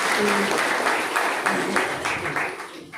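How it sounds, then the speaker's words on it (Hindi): An audience claps through a Hindi talk on war, natural disasters and atomic energy, the sustained applause broad and steady with a few speech sounds mixed in. "ताली बजाओ भाई"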